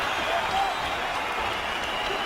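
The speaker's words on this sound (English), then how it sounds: "it is met by a huge cheer from the London crowd" A large London arena crowd at an Anderson Silva versus Michael Bisping fight roars in a steady, dense wash of cheering and applause that holds at full level throughout.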